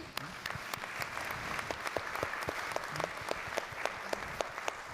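Conference attendees at a meteorological satellite meeting give a round of applause for the panelists, with many sharp individual claps ringing out over a steady bed of clapping from a large hall audience.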